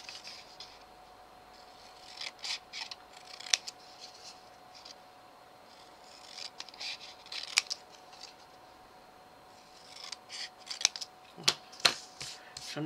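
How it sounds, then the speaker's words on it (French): Scissors snipping paper triangles for a craft project, quiet close-up cuts arriving in short clusters of crisp snips separated by pauses, with faint paper rustling and no speech. "je vais les couper directement au ciseau, hein, parce que ça ira plus vite"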